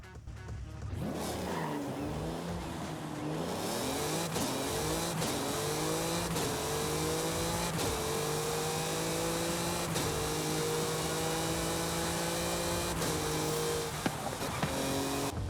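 Mercedes-Benz CLK driven in Forza Horizon 5: a continuous engine drone rising through repeated gear shifts, with tire noise and a few sharp clicks, loud and close throughout.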